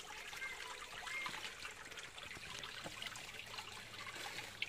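Spring water trickling and seeping out between rocks at a natural water source near a small village, a steady soft broadband trickle with faint patter, continuous and fairly quiet throughout.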